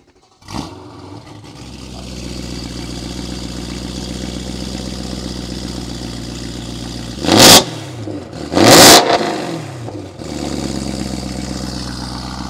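A BMW M3 E92 with DKG gearbox cranks and fires up, settling into a loud steady idle broken by two sharp throttle blips that rev high, then drops back to idle.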